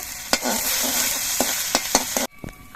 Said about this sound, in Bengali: এই আদা বাটাটাও একটুখানি ভেজে নেব